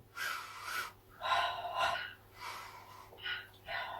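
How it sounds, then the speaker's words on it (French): Pilates breathing, a series of audible breaths in and out, each a soft airy rush lasting under a second, close and steady in rhythm, with no talking. "Inspire chaque côté et souffle chaque côté."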